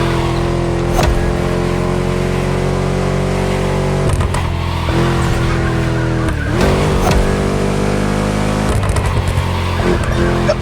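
A Ford Mustang V8 roars in The Crew Motorfest racing game, its loud, steady revving rising and falling in pitch through gear changes, with brief tire squeal and no talk.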